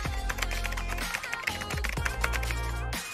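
Keys tapped on a keyboard as a business name is typed for a small treat business setup, with steady clicks over continuous background music.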